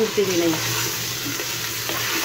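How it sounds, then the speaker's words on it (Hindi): Beef mince (keema) stirred in a pan for aloo keema, giving a steady close sizzle with light scraping under brief talk. "इसे इस तरह से चला लेंगे वरना इसकी गुठलियाँ बन जाती हैं कीमे की हमेशा।"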